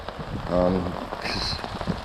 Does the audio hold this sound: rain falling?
yes